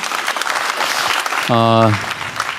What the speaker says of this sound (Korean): 박수로 청해볼까요?